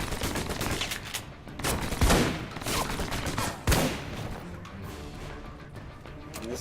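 An auto turret in Alpha Protocol fires in quick rattling bursts, with a couple of sharper, heavier impacts punching out of the steady, moderately loud chatter of shots.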